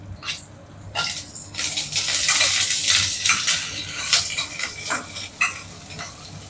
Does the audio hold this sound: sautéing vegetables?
yes